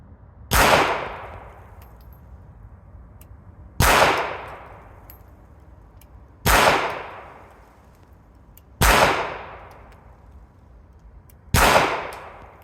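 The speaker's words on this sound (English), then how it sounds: "So let's do some shooting and see what happens." Five loud, sharp pistol shots from a Ruger LCP II fired at a target, evenly spaced about three seconds apart, each with a quick echoing decay and no talking between them.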